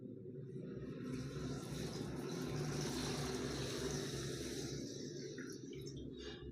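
Faint, steady rush of water being poured into sugar in a pot to make syrup for chhanar jilapi, a soft continuous trickle swelling in the middle and tapering off toward the end.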